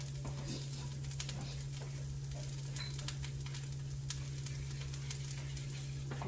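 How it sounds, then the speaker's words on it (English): Oil sizzles and crackles steadily in a pan as fish fries, a constant spattering hiss with a low hum underneath. "I hope my fish ain't burning."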